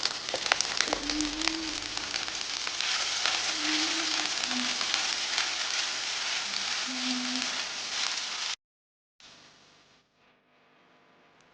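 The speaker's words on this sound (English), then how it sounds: "Add a little bit of oil and the onions and stir fry for" Onions stir-frying in oil for a Bhutanese spinach soup, a steady bright sizzle close by for about eight seconds with a few faint scraping stirs, then it cuts off to near silence.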